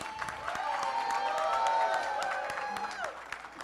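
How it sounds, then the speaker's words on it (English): An audience at a Diwali celebration claps after a children's group performance, with scattered cheers and voices mixed into the moderate, steady applause. "Big applause."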